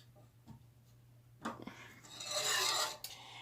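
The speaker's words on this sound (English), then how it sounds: "Whisk it in, again, so that you don't get any lumps." A vegan, gluten-free gravy roux being whisked in a pan gives a brisk, scraping rasp that builds for about a second and a half, then cuts off sharply near the end.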